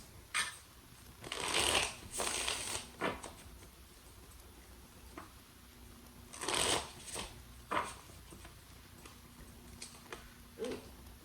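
Tarot cards riffle and shuffle in several quick bursts, with soft taps and pauses between, close and quiet.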